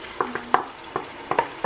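Tomatoes are stirred into a chicken stew mixture in a pot, several distinct spoon clacks and scrapes over a soft sizzle, close and without speech.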